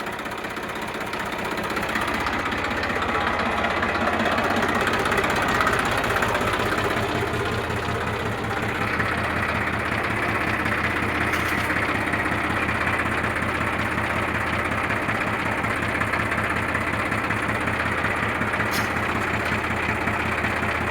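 A Massey Ferguson 7250 tractor engine idles close by with a steady, unbroken low rumble and mechanical clatter that holds an even level throughout, with no voices.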